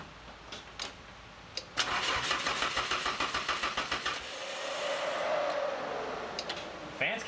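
A Miata with a swapped SR20 engine cranks repeatedly without firing, a fast rhythmic starter churn lasting a few seconds between short clicks, fuel-starved and close by, with no talk.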